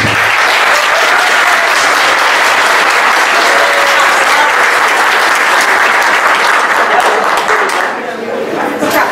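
Council members and the public fill a municipal chamber with loud, sustained applause during an ordinary session, a dense continuous wash of clapping held for about nine seconds before easing slightly near the end.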